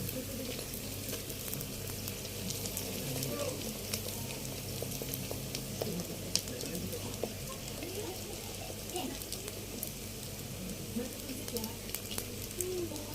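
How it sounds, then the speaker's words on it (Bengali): Luchi deep-frying in hot oil, a steady dense sizzle and crackle holding close and even throughout, with faint talk at moments. "দুপাশটা লাল করে ভেজে নেব"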